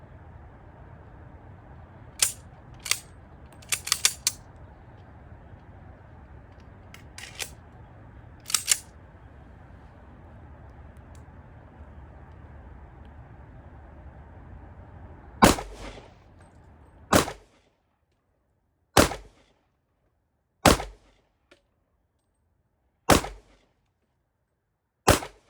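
A series of sharp gunshots from a firearm loaded with factory-made ammunition, about a dozen loud cracks spaced irregularly, the later ones isolated against silence and some echoing briefly.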